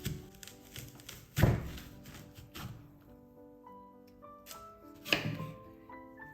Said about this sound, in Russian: Вот таким приспособлением сейчас сердцевинку удаляем.